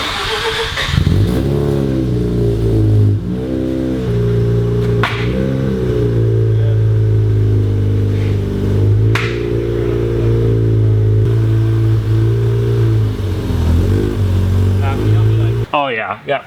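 A Mazda RX-7 rotary engine runs close by as the car creeps into a small DIY paint booth, a loud steady idle with a few throttle blips and revs, under occasional talk.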